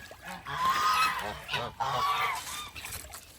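A goose honks repeatedly at close range, two loud, raspy honking calls in quick succession with nasal, wavering tone.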